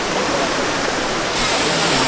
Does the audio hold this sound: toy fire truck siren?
no